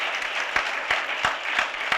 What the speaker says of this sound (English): let's give him a round of applause also